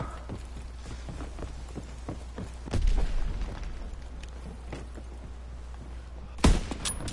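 Several enemies fire at once in a WW2 video game, with scattered gunshots cracking over a constant rumbling battle bed and two louder, closer blasts standing out.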